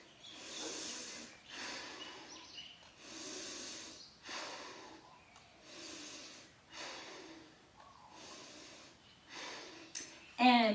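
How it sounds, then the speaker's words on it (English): Slow, rhythmic breaths during a gentle yoga twist, about six soft airy inhale-exhale swells, close and fairly quiet with no talking. "And breathe."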